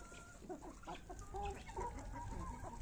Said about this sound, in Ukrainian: Курочки наші гуляють, їдять ранкову кашку